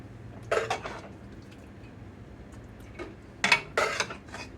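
Food spooned into a blue bowl at a kitchen table, with two short bursts of ceramic and cutlery clinks and scrapes, close and moderately loud.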